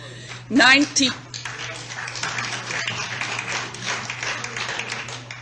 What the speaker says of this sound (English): Please respect the committee. Do not applaud.